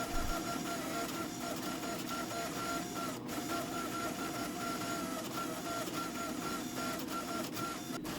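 A press squeezes a hot steel chain into the tang of a cleaver, producing a steady mechanical hum and whine with faint tonal lines, continuous throughout with a couple of brief clicks.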